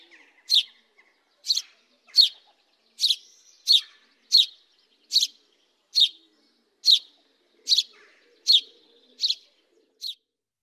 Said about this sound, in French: Le moineau n'a pas un chant particulièrement intéressant.